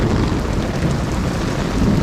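Heavy rain pours down during a thunderstorm in Singapore, a loud, dense and continuous roar of rainfall with a low rumbling undertone throughout and no voices.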